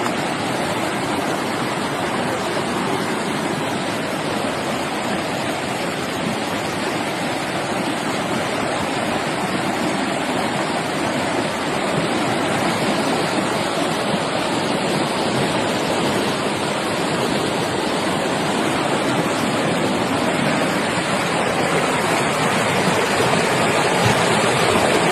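Floodwater rushes continuously after heavy rain, a loud, unbroken roar of flowing water that holds steady for about twenty-five seconds with no voices.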